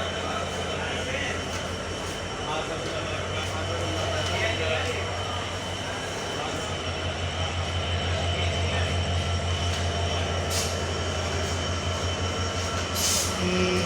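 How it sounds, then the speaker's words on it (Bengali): Nilsagar Express passenger train from Chilahati to Dhaka passing through Natore station at night, a close, loud, continuous rumble of rolling wagons with wheel squeal and clatter, faint voices beneath. "শিলাহাটি থেকে ঢাকা যাওয়া ট্রেনটি"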